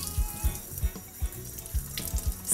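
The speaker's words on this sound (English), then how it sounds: "So what I'm doing is I'm letting the cold water" Cold water runs from a kitchen tap to soak a towel, a steady rushing stream broken by irregular soft splashes and thumps as the cloth is worked under the flow, close and fairly loud.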